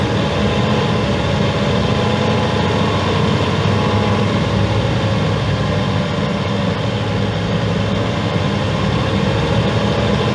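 A heavy truck engine idles with a steady, loud rumble and hiss, unchanging throughout, as the air brake compressor builds pressure toward about 120 psi before the governor cuts out.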